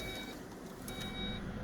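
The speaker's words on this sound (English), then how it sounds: "the back hatch will beep" Warning beeps from the power liftgate of a Volkswagen Atlas SEL Premium, a few faint, thin electronic tones pulsing at a steady pace over a quiet hum.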